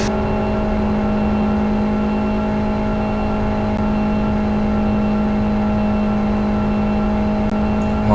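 Race cars lap the circuit during a 24-hour endurance race, a loud, constant droning engine roar that holds steady without pause, dominated by a strong low hum.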